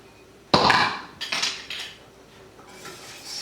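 A utensil stirs sauce in a cooking pot, a sharp metallic clank followed by several scraping knocks against the pot's sides, close and fairly loud with no talk.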